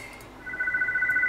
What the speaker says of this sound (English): Shut up, phone!